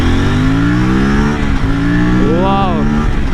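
Aprilia RS 457 motorcycle engine pulling hard in first gear, a loud steady rising whine with a shift-like dip and climb near the end, ridden close with a faint whistle in the engine note.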